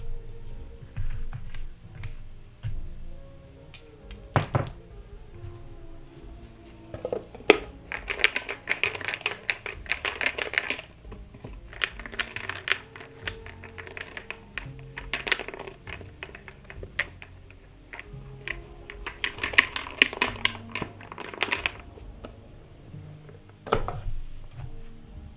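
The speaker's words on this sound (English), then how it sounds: "This is my technique for shuffling the little pieces of cardboard that you're supposed to shuffle." Small cardboard board game pieces being shuffled by hand, producing scattered clicks, taps and rustling bursts that come in irregular flurries with quiet gaps, close and fairly soft.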